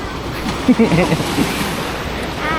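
Steady rush of ocean surf at a tidal pool in Casiguran, Aurora, with wind buffeting the microphone, and a few brief voice-like murmurs partway through.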